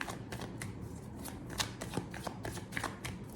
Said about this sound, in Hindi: एक एक कार्ड लेते हैं तीनों कार्ड की क्लैरिफाई के लिए